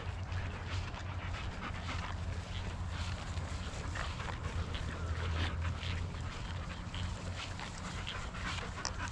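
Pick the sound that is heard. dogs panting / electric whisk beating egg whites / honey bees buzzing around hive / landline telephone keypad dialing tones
dogs panting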